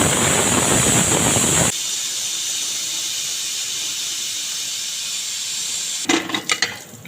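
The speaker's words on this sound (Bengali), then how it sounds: "আমি মাংসটা দিয়ে আমি প্রথমে চারটে সিটি দেব" A pressure cooker holding mutton curry lets out one loud, sustained steam whistle, a harsh close hiss that cuts off abruptly and is followed by a few faint clatters from the kitchen.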